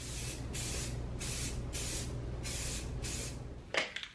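A spray can lays a matte clear coat over a 3D printed Daredevil helmet in steady, close hissing bursts of about half a second each, then a few handling knocks at the end.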